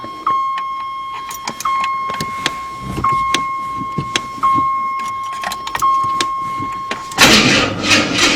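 Car engine cranking after a transmission installation: a starter whirs through repeated cranking bursts with clicks and a steady electrical whine, then a louder broadband rush near the end.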